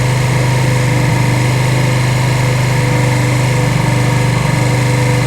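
A Suzuki VL250 motorcycle engine idles steadily while its idle mixture screw is turned richer, giving a loud, even, close-up putter with a constant pulsing beat and no talk.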